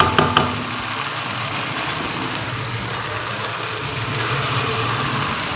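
Minced meat frying in ghee and masala in a pot makes a steady, continuous sizzle with a couple of sharp clatters at the start, and no talking.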